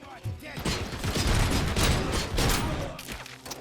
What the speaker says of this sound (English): I also don't like being shot at.